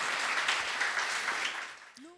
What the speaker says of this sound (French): je vous demande de l'applaudir encore une fois